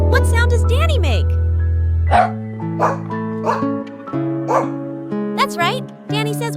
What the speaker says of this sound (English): Danny says woof woof.